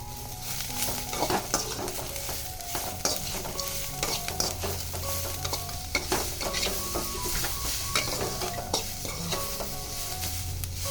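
Onions with pepper, cinnamon, cloves, ginger and garlic sizzle steadily in a pan for chicken sambar while a spoon stirs and scrapes throughout, close and continuous.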